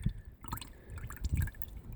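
Fuel and water drain from a Detroit Diesel 453 fuel filter into a container, making brief drips and a short gurgling pour, close and moderately loud, with no talking.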